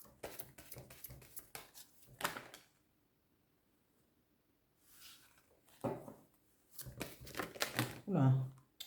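Tarot cards being shuffled by hand, several quick riffling bursts near the start and again later, close and crisp, with a pause between and a voice speaking briefly.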